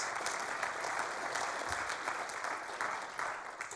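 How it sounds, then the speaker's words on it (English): A church congregation applauding, a dense, even wash of many hands clapping from across the room that holds steady and then thins slightly at the end. "You're allowed to applaud if you want."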